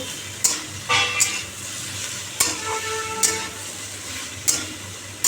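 Onions and snake gourd fry in a pan with a steady sizzle, broken by several sharp scrapes and clanks as a utensil stirs them, close up.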